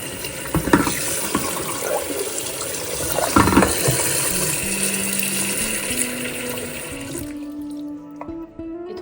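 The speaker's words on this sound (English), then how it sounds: "And I pour the cold water" Cold water runs from a kitchen tap in a steady, close gush that fills a vessel for peeling tomatoes; near the end the flow quietens as a rising filling tone takes over.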